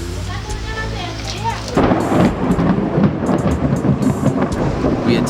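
A thunderstorm with heavy rain in Sumbawa, Indonesia: a brief voice opens, then loud, dense rain and rolling thunder crash in and stay steady and close for the rest.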